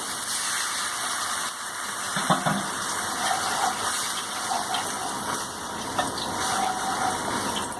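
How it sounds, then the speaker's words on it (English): Water poured into a vegetable Manchurian mixture, a steady gushing, splashing flow in a home kitchen, continuous and fairly close with a few brief clatters. "We'll add little water."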